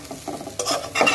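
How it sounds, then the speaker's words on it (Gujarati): Patarvel (colocasia) leaf mixture is gently stirred and fried in a pan, a soft close-up scrape of a spoon under a light sizzle that swells in two short bursts, with no talk. "આ રીતના એકદમ હલકા હાથે આમાં મિક્સ કરી લેવાનું છે"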